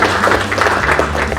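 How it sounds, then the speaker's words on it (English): A crowd of underclassmen applauds the seniors at a football senior night, steady dense clapping and cheering filling the space throughout, loud and sustained over a low murmur. "give your seniors a round of applause"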